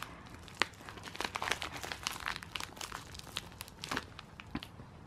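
Soft, close crinkling and crackling of plastic being peeled and pulled, with scattered sharp snaps and rustles throughout.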